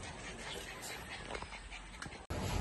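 Dogs and puppies whimper and give faint yips at the Bocaue pet market, the thin cries half-buried in dense, steady outdoor noise, with a brief cut-out near the end.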